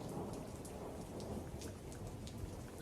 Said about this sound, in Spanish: donde la lluvia golpea con fuerza sobrenatural los cristales empañados de mi estudio